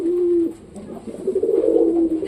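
Pet pigeons cooing close by, a low throaty hum that breaks off and returns in rolling, pulsing coos, loud and near, with no talk over it.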